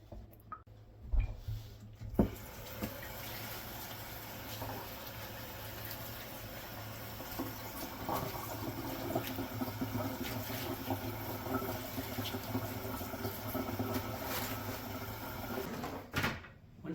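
Tap water runs steadily into a sink while kale is washed, a continuous moderate splash with faint clinks and handling knocks, starting and stopping abruptly at the ends.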